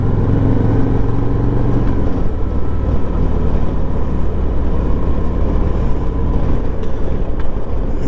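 2023 or 2024 Harley-Davidson Road Glide motorcycle engine droning steadily while riding, a loud continuous low rumble mixed with wind noise and no speech.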